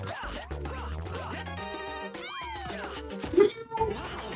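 Cartoonish cats meow amid game jingles, ringing chimes and electronic effects in WarioWare: Get It Together!, with people talking over the playful sounds.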